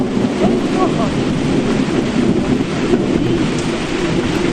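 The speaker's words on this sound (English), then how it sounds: "As you listen to the tap tap of rain on the roof" Heavy rain pours in a thunderstorm, with a dense, loud, constant roar and low rumbling beneath it. Some wind buffets the microphone.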